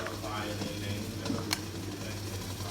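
Salt-scrubbed clams go into a hot pan and are stirred, giving a continuous sizzle with a few sharp scraping clicks, under a speaking voice.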